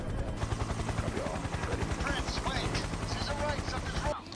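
A military helicopter in Afghanistan beats with a rapid rotor pulse while landing under attack. Gunfire crackles in the mix along with other film sound, and a voice is heard under the din.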